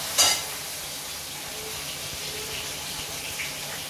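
Food sizzles in oil in a pan while poha is cooked with turmeric, a steady close frying hiss throughout with a brief sharper crackle near the start and no talking.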